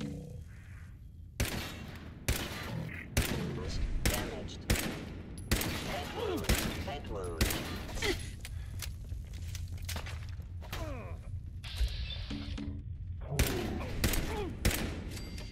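Gunfire in the video game Fallout 4, sharp repeated shots in irregular bursts with brief rapid volleys, close and loud, mixed with footsteps and faint game voices.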